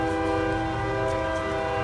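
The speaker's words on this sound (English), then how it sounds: "We're gonna wait until the train leaves." A train horn sounds as a loud, sustained multi-tone blast close by, holding steady for the whole stretch over a low rumble of rolling rail cars.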